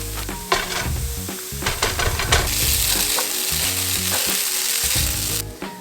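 Frozen noodles and mixed frozen vegetables sizzle loudly in a hot stir-fry pan, with a steady close-up frying hiss and occasional clinks of stirring throughout.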